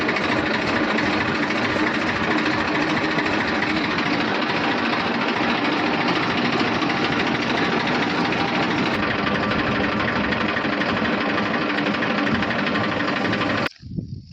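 A tractor engine running close by, a loud, constant, rumbling drone that holds steady throughout and then cuts off abruptly just before the end.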